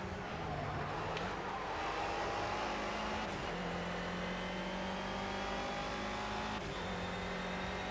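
Ginetta Super Cup race car engine in the Project Cars racing game, droning steadily as it revs through gear changes from an onboard view, with faint tire noise and no talking.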